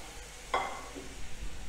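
A sudden loud hiss and sizzle as boiled milk and water hit a pan of roasted rice semolina, fading quickly into quieter bubbling.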